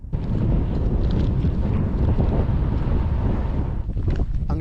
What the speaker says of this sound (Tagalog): Oo, sobrang lakas ng hangin ngayon.